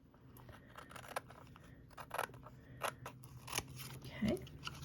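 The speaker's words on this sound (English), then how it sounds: "we're just going to work our way around, angling out and cutting the paper." Scissors snip and crunch through paper in a series of short, quiet cuts, with faint background noise around them.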